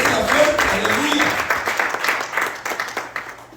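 A church congregation applauds during a sermon, dense clapping from a crowd at moderate volume that thins into scattered claps, with a voice speaking over it at the start.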